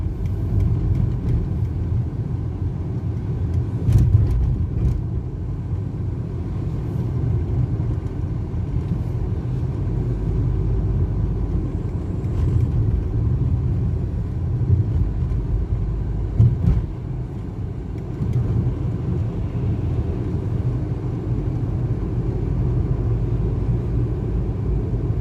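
A bus drives on roads wet after rain, producing a steady, loud engine rumble and road noise heard from inside the vehicle, continuous and unbroken with only faint occasional knocks.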